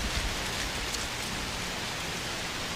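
Heavy rain pours steadily as a storm builds on the slopes of Mount Salak, a dense unbroken hiss of drops on surfaces, loud and constant, with no voices.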